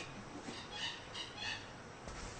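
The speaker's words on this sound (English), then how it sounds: "And hear all the birds." Birds call around a house in the forest, with repeated bright chirps and squawks that rise and fall in bursts over a steady, quiet outdoor hiss.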